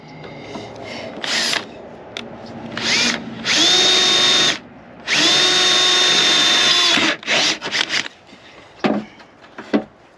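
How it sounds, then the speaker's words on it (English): An electric drill whines in several bursts, two long sustained runs boring a hole for a hood strut install on a 1979-98 Ford Mustang, with short trigger pulls and scraping handling noises between. "Drill the hole."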